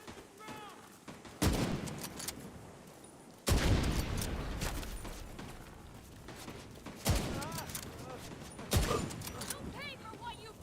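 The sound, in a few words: gunfire, people shooting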